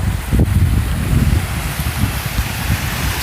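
Strong wind blows loud and continuous across the microphone along the San Antonio river walk downtown, a steady rumbling rush with gusting surges and no talking.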